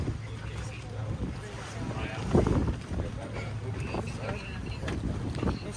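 Wind blows across a sailboat as it is held head-to-wind so the crew can raise the sails, a broad steady rush with occasional gusts under several voices calling out.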